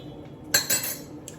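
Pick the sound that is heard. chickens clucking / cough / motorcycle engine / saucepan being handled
saucepan being handled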